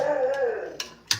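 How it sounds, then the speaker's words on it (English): A large guard dog, around 115 pounds, gives a low drawn-out growling whine that dips in pitch, followed by two short sharp bursts like clipped barks, all close and fairly loud with no talking. "Her barks are so loud."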